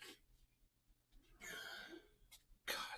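A couple of sharp sneezes burst out close by, with quieter breathy sounds between them.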